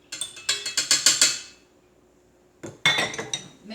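Flour and baking soda are mixed for banana bread, a utensil tapping and scraping quickly against a bowl in a rhythmic burst, a short pause, then another burst of clinking strokes.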